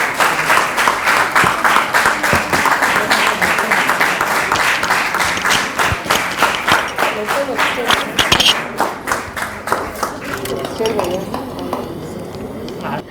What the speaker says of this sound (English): I request all of you to please give a bigger round of applause for the great cause.